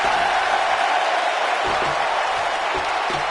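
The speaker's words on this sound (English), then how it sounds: "Listen to this crowd count the next one in." Arena crowd noise fills a WWE 2K19 wrestling match, a dense continuous roar of cheering at moderate level, with a few faint thuds underneath.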